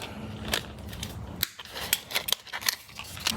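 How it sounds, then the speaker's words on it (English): A pair of 6-inch Hart vice grips is worked open and shut up close, giving a quick run of sharp metallic clicks and snaps at an uneven rhythm. "Those jaws open up really, really wide, and they come down really quick."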